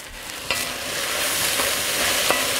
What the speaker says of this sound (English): So after we saute until the onions are a little opaque